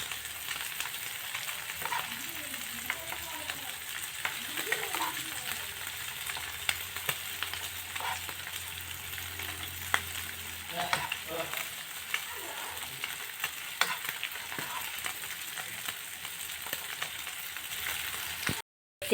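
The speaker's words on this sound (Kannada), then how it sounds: "ಇನ್ನೊಂಚೂರು ಫ್ರೈ ಮಾಡ್ಬೋದ" Cumin frying in a pan gives a steady, fairly quiet crackling sizzle for nearly twenty seconds, dotted with small scrapes and taps of stirring.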